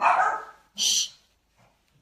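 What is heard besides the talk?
dogs barking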